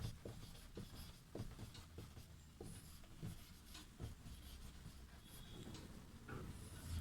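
A teacher writing an exercise heading in a Sanskrit class, heard as faint, close scratching strokes in short bursts over a quiet hiss, no talk.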